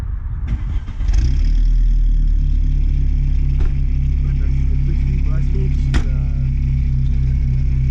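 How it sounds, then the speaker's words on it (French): A Volkswagen Golf G60 engine starts and then settles into a loud, steady, close-up idle with a deep, even rumble. People talk over the engine at the start. "Je te laisse démarrer un peu, qu'on entende un peu le bruit comme ça au ralenti."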